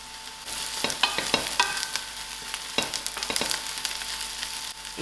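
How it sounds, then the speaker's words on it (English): Garlic and green chilies fry in a pan with a steady crackling sizzle, broken by sharp bursts of spatter and stirring clatter. The sound is close and moderately loud, with no talking. "Then I'm adding in my garlic to it, and my green chilies."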